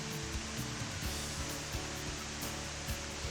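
Waterfall in Germany's Black Forest, a steady broadband roar of falling water that holds constant throughout, fairly distant and without any voices.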